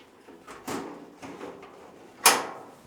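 A grill cabinet door on a Monument Grills Mesa 305 being lined up and pushed onto its hinge gives a few soft metal knocks and shuffles, then one sharper clack near the end, close and fairly quiet.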